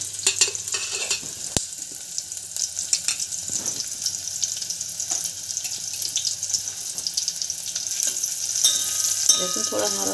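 Finely chopped garlic sizzles in hot oil with asafoetida in a pan while making a lentil dal, a continuous frying crackle with occasional stirring and utensil clinks, close and fairly loud, with no speech.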